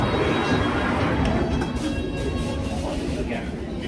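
A London Underground Circle line train rumbles along inside the carriage, a loud, continuous low roar with rattling and wheel noise that holds steady throughout.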